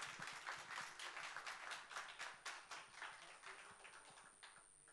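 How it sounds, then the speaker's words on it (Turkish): A television studio audience claps for an arriving guest on a Turkish music show, a brisk, dense round of applause that runs steadily throughout at moderate distance. "Ben sizlerden böyle o güzel duygularınızı evinizden, stüdyomuzda olsan dostlarımızdan güzel bir alkış istiyorum."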